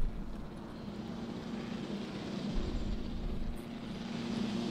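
A helicopter arrives in the Jurassic World Evolution game, its steady rotor and engine drone holding at an even, moderately loud level throughout.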